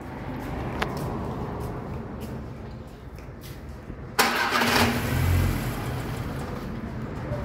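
A VW Parati, diagnosed for a phase sensor fault, cranks with a loud starter burst that catches into a rough running engine in a workshop, after a quieter stretch of background noise and clicks.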